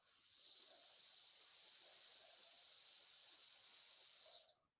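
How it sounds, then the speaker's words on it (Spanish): A handmade whistle cut from a silicone bottle gives one long, shrill, steady high-pitched blast lasting about four seconds, loud and alone, ending abruptly. "una vez que ya encontré que el silbato suena"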